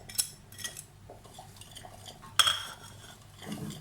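A spoon clinks and scrapes in a bowl while mixing dry spices (crushed red chili, turmeric, ajwain, black pepper, salt) with onion for rice pakoras, with scattered metallic taps and one sharp clink.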